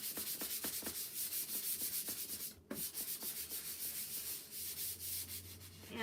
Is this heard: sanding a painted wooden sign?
yes